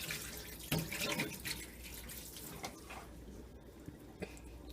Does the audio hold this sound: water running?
yes